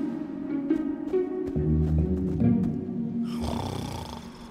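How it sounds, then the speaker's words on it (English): A character in Minecraft: Story Mode Season 2 snores, slow and drawn out, with several rumbling breaths in a steady rhythm before a brighter game noise cuts in near the end. "Even his snore makes him sound like a know-it-all."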